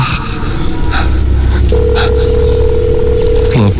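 A steady telephone ringing tone drones on through a noisy, muffled background, then cuts off abruptly.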